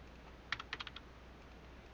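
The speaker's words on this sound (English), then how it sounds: "You can just simply click Control F and then type down." Several quick clicks of typing on a computer keyboard, a short burst of about six keystrokes near the middle of an otherwise quiet stretch.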